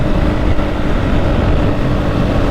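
A Beta 480 RR dirt bike cruises in sixth gear at about 100 km/h, giving a steady, loud engine drone buried under constant wind rush, with no clear changes in pitch.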